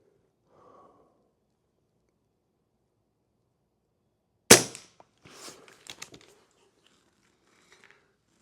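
A single sharp report from an Umarex Avenge X air rifle, fitted with heat shrink tubing on the barrel, fires while shooting groups on a range, followed by a few faint mechanical clicks and handling noises in a quiet setting.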